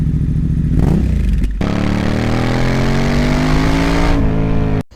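Honda Transalp XL750 motorcycle with the baffle fitted in its muffler, revving loudly: a steady rumbling idle that climbs into a sustained higher-pitched rev, holds, then drops and cuts off abruptly near the end, close and alone.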